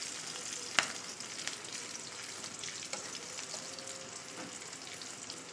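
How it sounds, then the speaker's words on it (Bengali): Onion fries in hot oil in a home kitchen pan for a jackfruit curry, giving a steady, soft, continuous crackling sizzle with a few sharper pops, heard alone and fairly faint throughout. "আমরা পেঁয়াজটা ভেজে নিচ্ছি"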